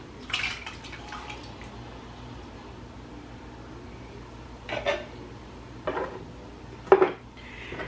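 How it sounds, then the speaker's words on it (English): A can of diced tomatoes is emptied into a cooking pot, giving a few scattered metallic clinks and soft wet plops, faint and spaced out over a quiet kitchen background. "next is just the can of diced tomatoes."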